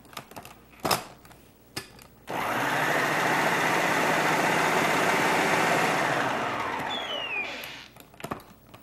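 A blender whirls gazpacho with olive oil, starting abruptly after a few light knocks and running as a loud, steady motor whir for about five seconds before winding down.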